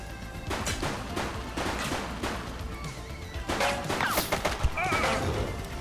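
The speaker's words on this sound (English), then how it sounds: "She's shooting!" Gunshots in The Precinct police game: a rapid series of sharp shots and crashing impacts in a chaotic street scene, with shouted voices overlapping near the end.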